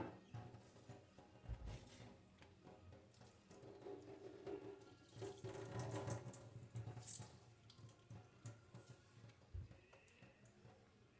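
Quiet, steady stream of tap water running and splashing, with occasional handling noises as grated yam is rinsed under it.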